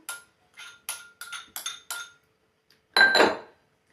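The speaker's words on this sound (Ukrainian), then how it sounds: "ретельно перемішуємо до однорідної консистенції" A spoon mixes minced meat stuffing with grated cheese in a bowl, making a quick series of close clinks and scrapes against the dish. A louder, longer scrape follows after a short pause.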